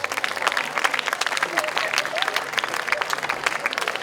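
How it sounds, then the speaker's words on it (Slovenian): An audience claps steadily at a live schlager music show, a dense and even wash of many hands held at the same level for about four seconds with no pause. "En aplavz prosim."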